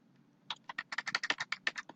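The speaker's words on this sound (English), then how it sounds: "I can just start typing." Fast typing on a computer keyboard while filling in a Google Sheets spreadsheet, a quick run of about a dozen crisp, close key clicks following a short pause, with a faint steady hum underneath.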